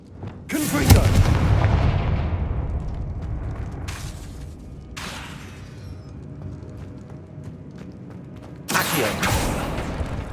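Confringo fire spells blast in the PS5 game Hogwarts Legacy, heavy booming explosions at the start and end with a crackling, rumbling decay between them; a voice briefly calls out a spell.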